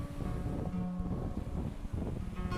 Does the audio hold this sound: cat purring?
no